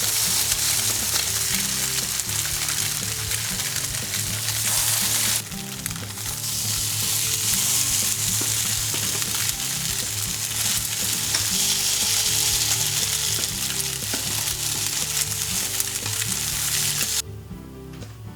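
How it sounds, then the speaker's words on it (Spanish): Tofu burger patties fry in a pan with a loud, continuous sizzle and crackle, steady and close throughout, with a brief dip midway and a softer tail at the end. "Y ahora a la sartén."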